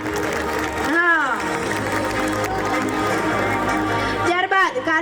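A crowd at a family reunion gathering applauds students who received prizes, with steady clapping running beneath a voice talking over it.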